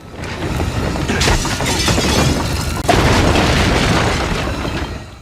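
A fire explosion in a 2001 TV drama scene erupts as a loud, sustained roaring blast with crackling, shattering debris, then a second surge partway through, with no talking.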